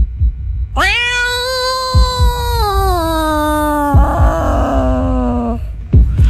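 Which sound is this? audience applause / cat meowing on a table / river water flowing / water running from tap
cat meowing on a table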